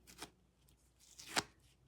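Tim Holtz mini scissors scrape and snip at fabric edges to rough them up, producing a few faint, brief rasping cuts close by with quiet gaps between.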